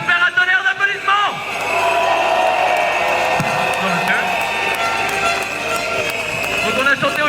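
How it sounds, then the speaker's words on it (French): A crowd at a Manif pour tous rally breaks into sustained applause and noise. An amplified voice speaks over it at the start and end. "vous pouvez leur faire un tonnerre d'applaudissements"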